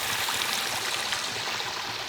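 A small creek runs through a culvert beneath a road on rural homestead land in western North Carolina, giving a steady, close rushing flow of water with no voices.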